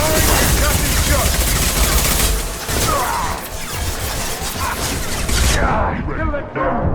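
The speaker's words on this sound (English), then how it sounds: "Firing an incoming shot!" Loud chaotic gunfire from the game Mass Effect 2, a dense fusillade with crashes and impacts, while someone shouts over the combat.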